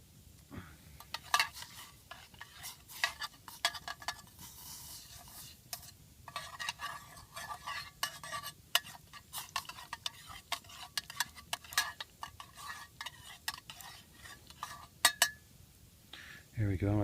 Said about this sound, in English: be using my East German MBA 63 spoon and fork set, all aluminum, but still strong, will not bend hardly